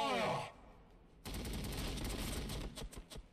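Machine guns fire in the Warhammer 40k Battlesector video game: a brief burst at the start, a short lull, then sustained rattling gunfire with crackling impacts that grows choppier toward the end.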